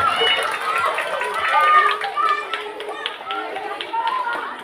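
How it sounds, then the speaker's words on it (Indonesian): Schoolchildren clap together at a school ceremony, a dense burst of rapid, uneven applause with children's voices chattering underneath. "Asik, tepuk tangan."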